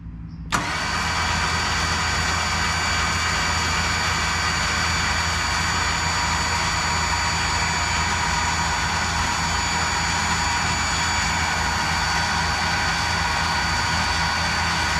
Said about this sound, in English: now you're going to want to slowly bring it in with the winch